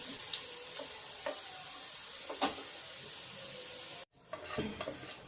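A pan of mustard seeds, curry leaves and onions sizzles steadily, crackling continuously, briefly cut off near the end before the sizzle resumes, with occasional stirring clinks.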